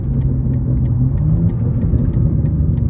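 A G87 BMW M2 with a ZF eight-speed automatic lets out a deep, smooth exhaust burble, a steady close-up low rumble without distinct pops.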